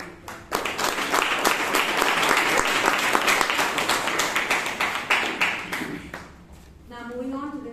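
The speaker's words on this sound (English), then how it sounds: "There is always a huge round of applause to the speaker and to the evaluator." A round of applause for the speaker and evaluator at a Toastmasters club meeting in Bangalore, with dense clapping from a small group that builds quickly and fades after several seconds into a voice.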